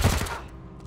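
Gunfire from the post-apocalyptic video game Wasteland 3, a loud close burst at the start that decays into a rumbling tail within a second.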